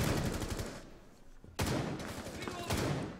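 Gunfire from the Rainbow Six Siege video game: bursts of rapid shots, with a sharp loud volley near the middle and another toward the end, over a continuous busy game mix.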